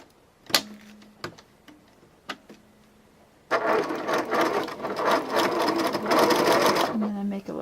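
A few clicks and short whirs at first, then a sewing machine runs steadily for several seconds as it stitches a line along a dishtowel cuff, ending in a brief hum.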